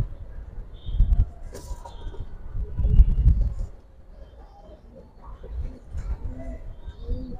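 Pigeons in a collection coo in a few low throaty bursts, separated by quieter stretches, close by with faint chirps over a soft background.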